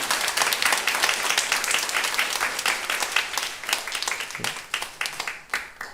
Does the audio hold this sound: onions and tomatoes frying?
no